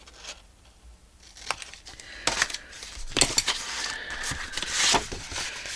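Scissors making V-cuts in scrapbook paper pockets, a quiet lead-in followed by clustered crisp snips and paper rustling, close up and steadily busier toward the end, with no talking.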